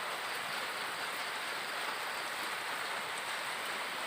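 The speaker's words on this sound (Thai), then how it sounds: "ฝนก็ยังตก" Steady rain falls in a constant, even hiss, moderately faint, with no voices.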